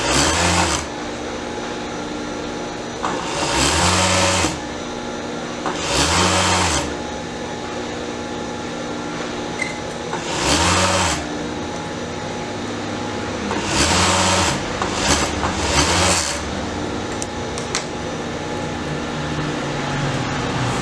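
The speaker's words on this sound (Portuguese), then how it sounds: "Overloca aqui para segurar o forro do tecido." An overlock sewing machine stitches the lining of swimsuit fabric in several separate loud bursts of rapid motor hum, each lasting about one to one and a half seconds, with quieter pauses between them and no talking.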